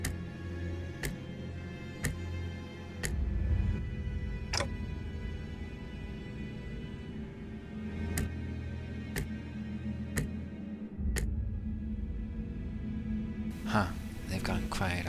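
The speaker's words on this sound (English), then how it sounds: "The ticking's gotten faster" A clock ticks with sharp, sparse clicks spaced about a second apart and quickening, heard under continuous talking and a low background drone.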